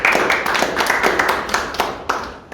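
An audience at a gender-sensitivity forum held by a regional political party committee claps steadily to welcome the head of a sexual violence counseling center, close and moderately loud, gradually thinning toward the end.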